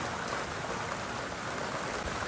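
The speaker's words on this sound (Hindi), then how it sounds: "अचानक से ही बहुत ज़्यादा बारिश शुरू होगी" Heavy rain pours steadily in a hilly mountain village during a wedding, a dense continuous hiss of downpour with no pauses and no voices.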